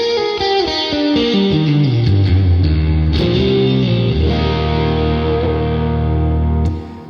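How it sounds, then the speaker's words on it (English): An electric guitar through the LUMOS pedal's space plate-type reverb: sustained, descending notes bloom into a thick, shimmering wash that rings on loudly and evenly before fading at the end, with no talking. "Space is kind of more of like a plate type of reverb."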